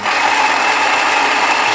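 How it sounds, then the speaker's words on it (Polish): The built-in coffee grinder of a Saeco Incanto espresso machine runs in a steady, loud, continuous whir with no breaks, heard alone. "Dźwięk młynka wydaje mi się ok."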